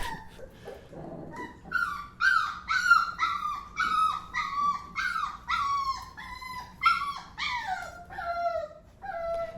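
Puppies whine close by in a steady series of high, wavering whimpers, one after another with no talking.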